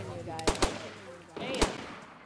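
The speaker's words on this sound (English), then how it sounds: "Everybody open fire on people that aren't us." Video-game gunfire rings out in a few short sharp bursts, one quick pair of shots and then another blast, with players' voices talking over and between them.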